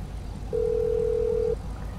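A steady phone dial tone inside the game GTA 5, a single clean hum lasting about a second over quiet background music, with no talking.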